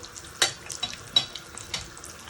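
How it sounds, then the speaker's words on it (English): Prawn fritters fry in hot oil, a soft steady sizzle punctuated by light crackling pops, close up and with no one talking. "So let it fry, and then we'll flip it and be very gentle."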